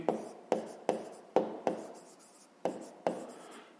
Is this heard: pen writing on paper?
yes